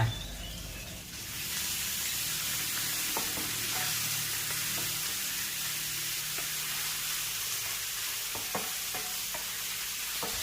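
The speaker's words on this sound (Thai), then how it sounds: "ผัดกระเทียมพอเหลืองแล้วเราก็จะใส่ไก่ลงผัดค่ะ" Steady loud sizzling of chicken being stir-fried with golden garlic in a hot pan, with occasional light scrapes and clinks of a utensil.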